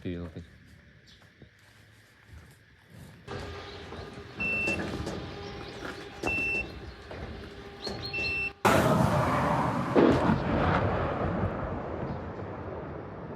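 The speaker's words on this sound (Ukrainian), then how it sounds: "Воно щохвилини здригається від вибухів" After a quieter stretch with faint tonal beeping, a sudden loud blast erupts, followed by a long, rumbling roar that slowly fades.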